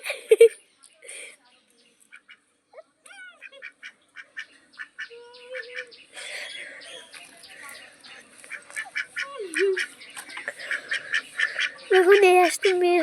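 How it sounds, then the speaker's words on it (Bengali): Several domestic ducks, male and female, quack and honk in sparse calls that grow busier and louder toward the end, with some talk mixed in close by. "দেখুন এই হাঁসটি মেয়ে হাঁস, এই হাঁসটা কিছু করে না"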